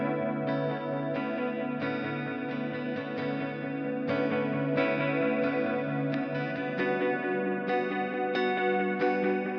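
Electric guitar played through a UA Starlight delay pedal on an Echoplex-style tape echo preset, sustained chords with rhythmic note attacks trailing into repeating echoes, steady and up close with no voices.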